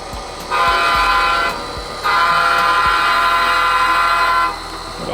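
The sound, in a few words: locomotive horn honking during rail switching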